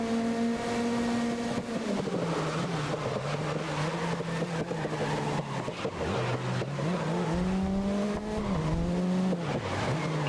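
A car drives in GRID (2019), its engine droning loudly and steadily, pitch dipping and climbing through corners and shifts, with faint tire noise underneath.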